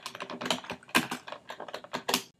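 Someone types on a computer keyboard at a desk, a quick, uneven run of crisp key clicks heard up close and fairly quiet, with no voices.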